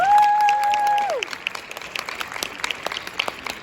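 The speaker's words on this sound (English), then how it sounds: "let's get them a round of applause" Applause from the audience at a university luncheon during the 2023 NARC conference in Philadelphia, a dense, steady patter of many hands with a brief whistling tone at the start, fading slightly after the first second.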